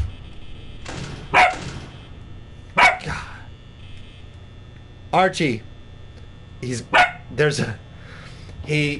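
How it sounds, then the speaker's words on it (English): A dog barks indoors at his own reflection in a night-dark window, letting out several short bursts of barking spaced a second or two apart, with a person speaking softly between them. "Because he thinks it's another dog. So that, if you hear him barking, that's what he's barking at."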